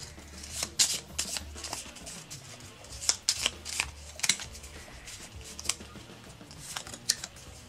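Playing cards from a deck of personal item cards in The Texas Chainsaw Massacre Slaughterhouse board game, shuffled and drawn in a run of crisp, close riffling snaps and flicks at irregular intervals, with no one talking.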